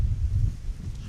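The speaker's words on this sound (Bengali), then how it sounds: "বাতাস হচ্ছে না ভীষণ?" Strong wind outdoors in a village, a low continuous buffeting rumble pressing on the microphone, with no voices during the moment.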